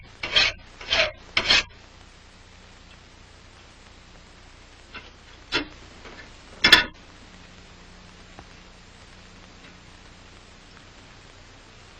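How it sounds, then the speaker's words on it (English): A metal file rasping on the breech end of a muzzleloading gun barrel at a Williamsburg gunsmith's workbench, three quick strokes near the start and two more later, separated by quiet pauses. "file down the breech of the barrel until the plug turns around to the proper"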